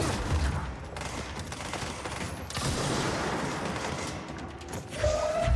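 Video game gunfire rattles in dense, continuous bursts with heavy thuds and booms, loud and close throughout.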